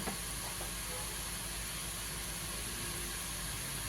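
Murukulu dough sizzling in hot oil, a steady, fairly quiet hiss and crackle of frying that runs continuously with a few faint pops near the start.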